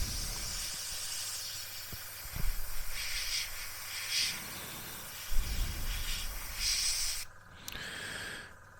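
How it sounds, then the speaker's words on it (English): Airbrush spraying paint onto a model Oshkosh HETS truck: a steady airy hiss that swells and fades with trigger pulls and short bursts, with light handling bumps and no speech. "Paint delivery, paint laydown, color saturation. It's all about fine airbrush trigger control."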